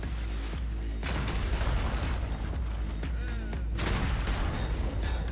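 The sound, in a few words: ship cannon fire in video game Holdfast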